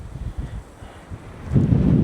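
Strong wind at a pond during ultralight fishing, buffeting the microphone with low rumbling gusts that swell louder toward the end.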